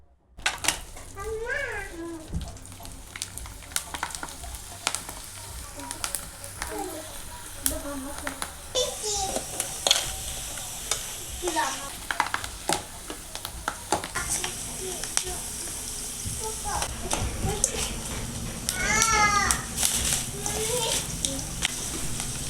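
Gram flour roasting in hot oil in a pan for a besan palya, a steady sizzle with stirring scrapes running under someone talking and children's voices throughout.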